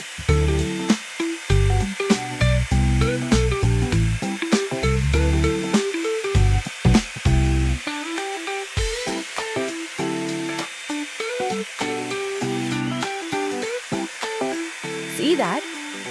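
A 2-in-1 hair dryer and straightener blows a steady rushing stream of air as it glides down a section of hair, loud and continuous with a voice talking over it.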